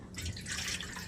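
Water is poured from a bowl into a kadhai on a gas stove for rice flour chakli dough, a steady splashing trickle lasting about a second, close and fairly loud.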